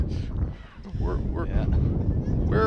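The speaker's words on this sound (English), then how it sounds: "It's a little windy." Wind gusting outdoors at a cold November youth Pop Warner football game, heard from about three stories up. Steady low rumbling buffets the microphone throughout, with muffled voices mixed in.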